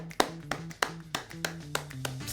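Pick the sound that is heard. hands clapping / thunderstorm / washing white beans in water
hands clapping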